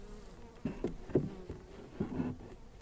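Honeybees at a garden hive buzz in short, faint bursts, several passing close by in quick succession against a quiet background.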